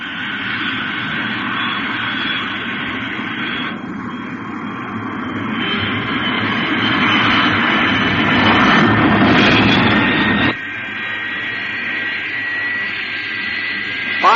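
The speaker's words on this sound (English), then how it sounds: "the giant Fireflash supersonic airliner prepares for its test flight takeoff" Jet engines of the giant Fireflash supersonic airliner spool up for takeoff in a radio drama, a loud sustained whine and roar that swells midway, then drops abruptly to a steadier hum.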